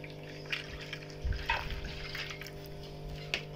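Water runs into a container during a family gathering, a steady faint pour with a few small splashy bumps, heard alone without talk.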